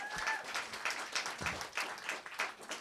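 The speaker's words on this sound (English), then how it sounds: "Huge round of applause for Alex" An audience at a songwriters circle showcase in Los Angeles applauds the sound technician: dense, steady clapping from many hands with a few louder bursts, filling the room without a break, and no voices on top.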